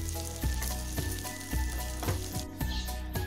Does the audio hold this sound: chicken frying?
yes